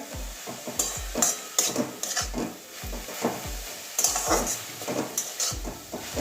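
Jute leaves sizzle in a hot pan while a utensil repeatedly scrapes and stirs them, knocking against the pan in an uneven rhythm.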